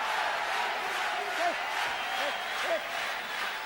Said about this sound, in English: the crowd starts to urge on Axel Schulz to do something big